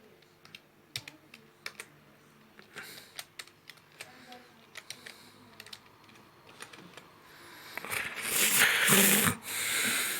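Keys clack on a computer keyboard in an irregular string of taps, close up, followed by a louder rustling burst near the end.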